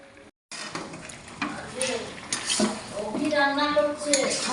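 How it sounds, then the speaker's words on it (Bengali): Chicken kosha with fried potatoes is stirred in a pan over a lowered gas flame, producing close scraping and clinking of a utensil against metal with a soft background sizzle and a voice partly over it. "নাড়িয়ে নেব"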